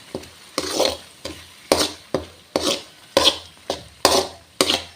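Chutney being stirred and mixed in a pan, with about nine rhythmic scraping strokes of a spoon against the pan, each a short loud swish close by.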